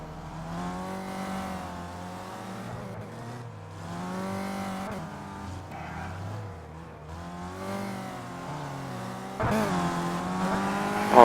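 Small race cars lapping a track in the rFactor 2 racing game, engines droning and rising in pitch through repeated revving and gear changes, a steady loud mechanical whine that swells near the end.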